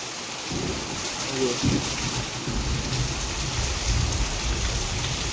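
Steady heavy rain with low rumbling thunder during a monsoon-like storm, a dense continuous downpour with deep rolling booms underneath, no voices.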